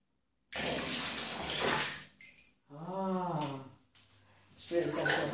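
Half a glass of milk is poured into bathwater, with splashing and rushing liquid in two bursts. A voice with a wavering, animal-like tone sounds in the middle.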